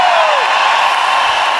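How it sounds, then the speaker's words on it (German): A live Red Bull Show 100 crowd applauds and cheers for the performer Blümchen, a dense, loud, steady wash of clapping and whoops filling the hall from start to finish. "nochmal einen großen Applaus für Blümchen!"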